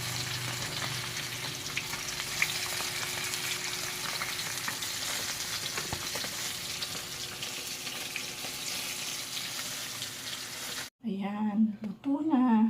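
Tilapia fish frying in a pan, giving a loud, dense, continuous sizzle and crackle close by that runs steadily and then cuts off abruptly, after which a voice speaks briefly.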